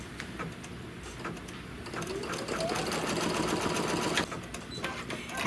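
A home embroidery machine stitches a basting box around a hooped trapunto pillow piece, giving a steady, fast mechanical chatter of needle strokes that continues close and unbroken, with no voices.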